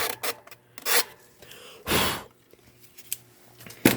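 Disintegrated material being scraped off a Duracraft 12-inch desk fan: a few short, close rasping scrapes spaced apart, one longer and louder near the middle, with quiet gaps between them.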